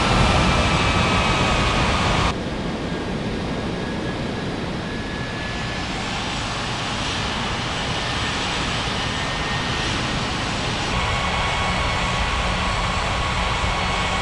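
Aircraft engines roar steadily while planes taxi at a busy international airport in an air traffic control game, a loud broadband jet rumble with a slight shift in tone partway through and no voices.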